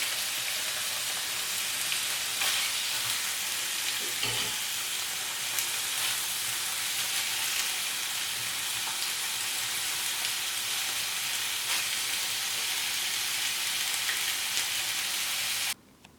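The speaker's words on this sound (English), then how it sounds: "we're going to add the beef short ribs. Just cook them. We're going to cook them all for 3 to 4 minutes" Beef short ribs sear in a hot pan, a dense, loud, even sizzle like heavy rain that holds steady throughout before cutting off abruptly at the end.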